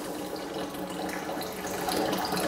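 Water runs steadily through an Auto Aqua Smart ASOV valve, a soft, even rushing and trickling flow with no talking.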